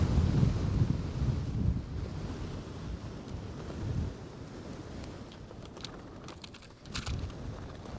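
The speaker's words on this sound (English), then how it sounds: "that wind's making us a bit nervous being at the edge" Blustery wind on an exposed Lake District fell summit buffets the microphone in strong, rumbling gusts that swell and ease, with a rushing roar throughout and a fresh surge near the end.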